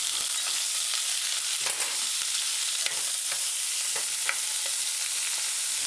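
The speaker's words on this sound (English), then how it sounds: "and stir for a little while" Seasoning, diced onions and scallion being stirred in a pot for chicken coconut stew, a steady sizzle with scattered scraping clicks of the utensil against the pot throughout.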